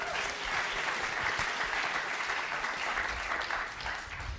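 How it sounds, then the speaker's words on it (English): A closing-ceremony audience applauds steadily, a dense wash of many hands clapping at moderate distance, sustained throughout without pause. "Can we give them another round of applause?"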